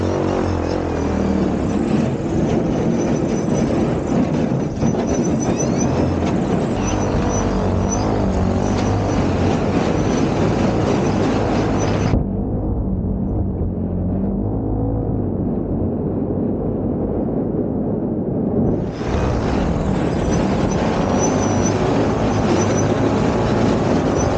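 A mini electric airboat runs on ice with a loud, steady whir from its fan and motor. The sound continues throughout, easing off to a quieter rumble for a few seconds before surging back up.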